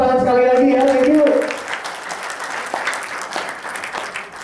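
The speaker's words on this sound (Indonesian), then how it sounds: "oke, tepuk tangan sekali lagi ya" Audience applause at a seminar, a spread of clapping that starts beneath a brief speaking voice and carries on steadily after the voice stops, moderately loud and fairly close.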